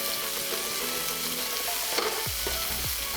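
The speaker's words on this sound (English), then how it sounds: "In the same butter, I'm putting in 1 piece of finely chopped onion." Finely chopped onion sizzles steadily in hot butter in a pan, a close, continuous frying hiss with a few stirring scrapes near the end.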